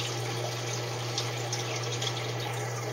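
Water overflows the standpipe of a clear bell siphon and trickles down inside it, a close, steady splashing flow with a constant low pump hum underneath.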